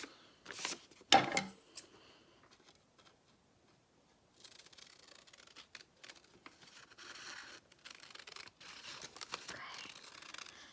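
Scissors cut paper down a folded crease, a short crisp snip burst near the start followed by quieter intermittent crunching and rustles, faint and close, with no talking.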